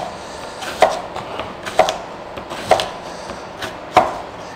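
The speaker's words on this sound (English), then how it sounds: "Then slice the plantain." A knife slices through plantain on a cutting board, four distinct sharp chops spaced about a second apart over quiet background, close and clear with no talking.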